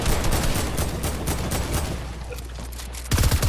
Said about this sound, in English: Somebody is sniping me, but I do not see them.